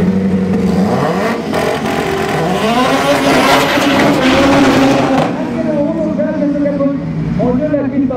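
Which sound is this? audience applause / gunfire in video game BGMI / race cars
race cars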